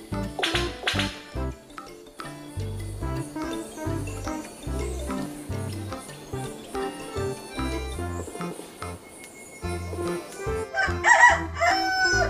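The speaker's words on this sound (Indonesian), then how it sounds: "Wih, ternyata ada burung." Bird calls ring out in the dinosaur video game Jurassic World Evolution 2, a crowing, rooster-like cry repeated over a busy bed of game sound and tonal music.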